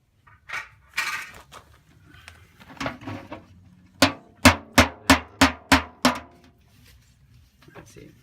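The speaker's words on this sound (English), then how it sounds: "Just a hammer and a nail." Close, sharp hammer blows drive a nail to knock drainage holes in a planter base, a quick series of about seven even knocks after a few scattered clanks and handling sounds.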